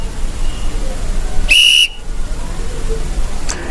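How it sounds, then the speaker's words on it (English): A single sharp, high referee whistle blast lasting about a third of a second, loud and close, over a low background hiss. "This is the referee whistle."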